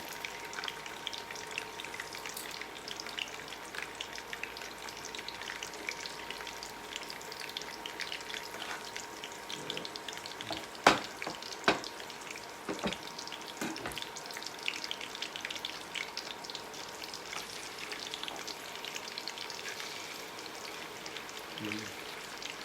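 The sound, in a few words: tofu and tempeh frying in spattering oil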